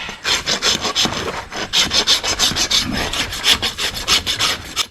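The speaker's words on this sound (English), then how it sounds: "While I'm rasping this hoof" A farrier's rasp scrapes a draft horse's hoof in a steady rhythm of close, gritty strokes, roughly two or three per second, with no talking.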